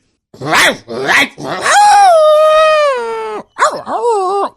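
A man imitates a dog with a few short gruff barks followed by a long drawn-out howl and a final whining yelp, loud and close, with no other sound.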